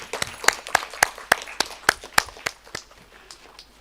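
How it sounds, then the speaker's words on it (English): An audience applauds with a dozen or so distinct sharp claps, fairly close and sparse rather than a dense roar, tapering off toward the end. "Can we welcome them by a huge round of applause?"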